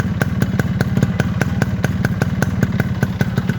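A fresh-condition Yamaha RX 100 motorcycle runs with its engine ticking over in a rapid, even train of close, loud thumping pulses, steady throughout with no voices.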